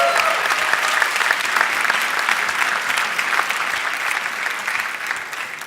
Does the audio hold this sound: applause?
yes